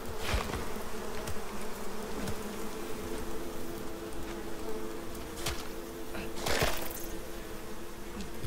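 Bees buzzing in the video game ICARUS, a steady droning hum that continues throughout, broken by a few sharp clicks and thuds.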